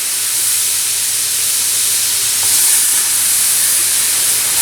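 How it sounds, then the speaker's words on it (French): Summer vegetables grill on a dry griddle plate with no fat, giving a steady, close hiss that holds evenly throughout and swells slightly near the end. "je vais les griller sur une plaque en fait où il n'y a pas de matière grasse"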